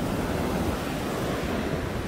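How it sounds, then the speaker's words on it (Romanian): Sea waves wash onto a beach on the UK coast, a continuous roaring rush of surf mixed with gusting wind noise. It is loud and unbroken, and no one speaks. "atenție, atenție! Vine apa peste noi."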